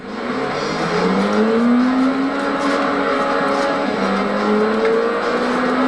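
A car engine revs and accelerates repeatedly, its pitch rising and falling over a steady, loud drone with no pauses, up close.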